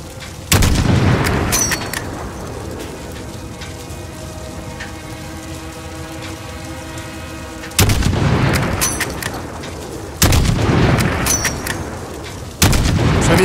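Sniper rifle shots boom in Call of Duty: Modern Warfare 3, four loud, sharp blasts spaced a few seconds apart, each with a long rumbling tail under a quiet, steady ambience.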